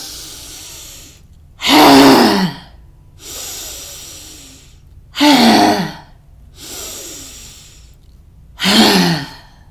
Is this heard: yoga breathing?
yes